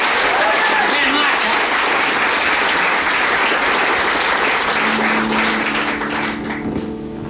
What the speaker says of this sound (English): So another big round of applause for Stu there.